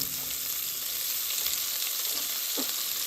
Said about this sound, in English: we're going to go ahead and stick our onions in that grease.